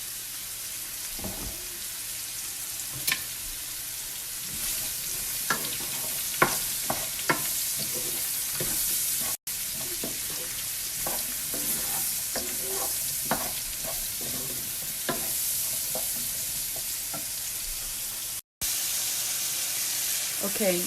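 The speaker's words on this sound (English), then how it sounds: "I'm gonna add some butter first, and then add my mushrooms. Saute this pretty good." Mushrooms sautéing in butter in a pan, a continuous soft sizzle with scattered crackles and pops and occasional scraping stirs, fairly quiet and close, running steadily for about twenty seconds with no one talking.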